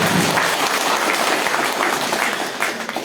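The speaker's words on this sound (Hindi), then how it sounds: "उसके लिए जोरदार तालियां" A crowd gives loud, sustained applause at a grand political reception for a parliamentary candidate in Kaying, many hands clapping densely and close, dipping slightly near the end.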